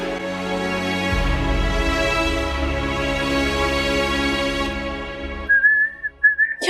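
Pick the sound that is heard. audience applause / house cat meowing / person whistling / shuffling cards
person whistling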